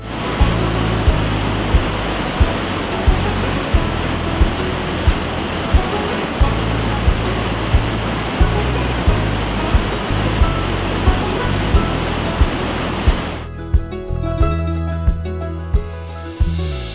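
Bow Falls on the Bow River in Banff roars as a constant loud wash of rushing water, steady throughout before cutting away near the end.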